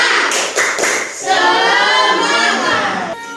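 A school class performs a rhythmic spirit clap, a few sharp synchronized claps followed by a sustained chanted group vocal with lively clapping, close and loud.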